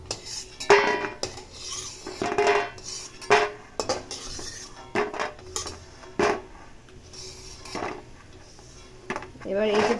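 A metal utensil clinks and scrapes against a pan several times while fried bori lentil dumplings are lifted out of hot oil, with light sizzling between the irregular clatters.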